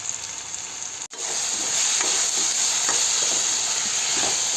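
Chopped tomato is stirred into a frying egg gravy, bringing a strong close sizzle and hiss after a brief break, with repeated spoon scrapes through the mixture and no talking.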